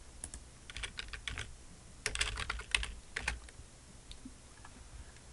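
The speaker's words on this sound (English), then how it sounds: "So I'll type it down here so you can see it." Fingers tapping on a computer keyboard, a quiet, irregular run of close keystrokes in small clusters over a faint background hiss, with no talk.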